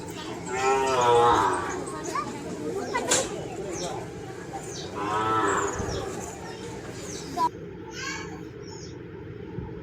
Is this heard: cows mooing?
yes